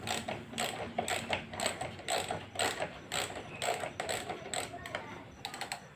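Ratchet wrench with an extension loosening the stiff, long-unopened front shock fittings on a Honda CB150R motorcycle: rapid clicking ratchet bursts in quick repeated strokes, close but fairly quiet.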